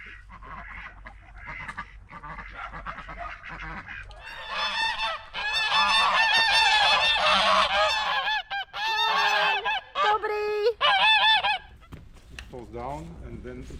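Geese and ducks honk and quack loudly at close range in a rural Slovak village, a chattering flock that swells into dense, overlapping calls midway before thinning out.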